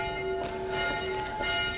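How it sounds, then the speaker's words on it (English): Church bells ring continuously with sustained, overlapping tones that hum and swell in steady strokes, fairly loud and clear with no talking over them. "with this Quasi still carrying on with the bells and what have you"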